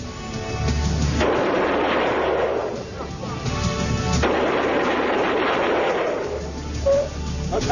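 A Browning machine gun fires in long, loud, rapid bursts, two heavy stretches of continuous fire separated by a brief pause, with a harsh, dense crackle and little else audible.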